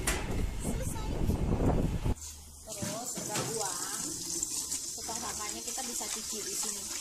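Tap water gushes at a sink used for hand washing beside waste bins in Taiwan, a loud splashing stream that cuts off after about two seconds, leaving a quieter background where people talk.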